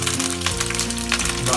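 Red chilli and curry leaves frying in hot oil, a steady close sizzle and crackle running throughout, with no talking.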